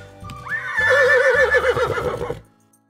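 A horse neighs once in a loud, close whinny lasting about two seconds, with a faint clop underneath, then silence.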